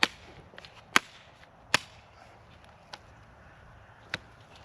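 Sharp metallic clacks from a Kel-Tec Sub 2000 Gen 3 rifle as the magazine drops, rounds eject and the stock folds: several isolated snaps spaced irregularly, fairly close, with quiet gaps between.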